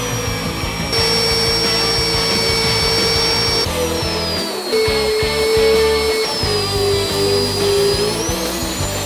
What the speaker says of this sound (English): we're gonna drill the rest of our holes with an annual cutter